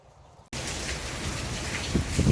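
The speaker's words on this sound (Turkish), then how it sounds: "Şuna bakın ya bardaktan boşalırcasına yağmur yağıyor ya." Heavy rain pours down steadily in a village house garden, beginning abruptly as a loud, dense hiss with a few heavier drip impacts toward the end.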